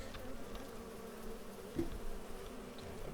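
A faint, steady insect buzz hums throughout, like bees droning at a distance, in the video game Farming Simulator 25, with a soft thump partway through.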